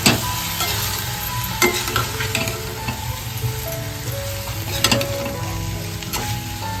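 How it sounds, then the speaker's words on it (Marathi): Pieces of surmai fish stirred into a sizzling dried fish curry with onion, tomato and ginger paste, giving a steady close frying hiss with occasional scraping and clinks of a spoon against the pan. "आता इकडे आपण सुरमईची पीस घालून घेतोय व्यवस्थित मिक्स करून घ्यायचंय"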